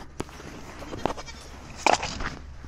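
A goat bleats at close range in a few short, rough calls, with scattered thumps and footsteps from a farm setting around it.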